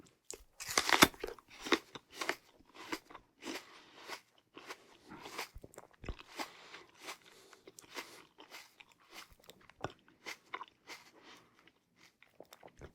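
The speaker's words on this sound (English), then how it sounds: "This is red apple mukbang." Close-up crunchy bites into a red Gala apple, followed by wet, rhythmic chewing that repeats in short bursts, intimate and quiet with no talking.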